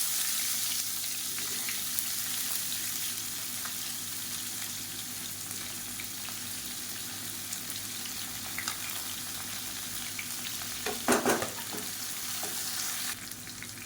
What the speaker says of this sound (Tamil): இப்போ மீடியம் சைஸாக 2 பெரிய வெங்காயம் நீளமாக நறுக்கினதை சேர்த்துக்கலாம்.